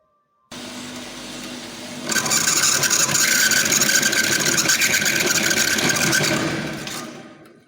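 A bench saw whirs up, then bites into screws with a loud, rasping cut that holds for several seconds before winding down; the blade is somewhat dull.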